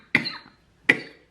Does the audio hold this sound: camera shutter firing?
no